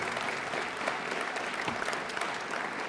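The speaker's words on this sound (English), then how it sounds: "Y'all give them a round of applause as they make their way up." A crowd claps steadily at a high school athletic sports assembly in a gym, dense even applause filling the space for the whole moment without pause.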